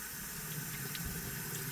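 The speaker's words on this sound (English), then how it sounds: "just letting the water run through it" Water from a sink tap runs steadily through a Miele Triflex vacuum part being washed, making a constant close rushing and trickling sound.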